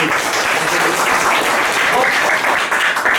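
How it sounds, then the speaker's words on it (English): Loud, dense audience applause filling the whole stretch, a continuous roar of many clapping hands without pause, close and even in level. "A big round of applause."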